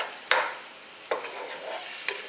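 Onion, tomato and garlic cook in a pan over medium heat for creamy veggie pasta, with a soft, even frying hiss. Three sharp scrapes of stirring fall at a steady interval.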